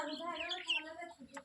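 Chickens squawk and cluck in agitated bursts at close range while the cat Simba pounces on them, with other noise in between.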